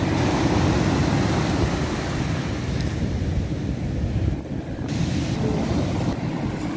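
Stormy sea at Arkhipo-Osipovka on the Black Sea coast, with loud, continuous surf crashing and roaring wind buffeting the microphone, the rumble steady throughout with a brief dip near the end.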